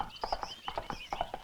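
A horse's hooves clip-clop in a quick, even rhythm, close and clear, in a classic Bollywood film scene.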